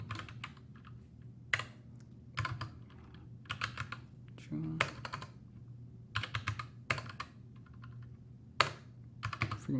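Fingers typing on a computer keyboard in quick bursts of clicks separated by short pauses, close and clear over a low steady hum, with no talk.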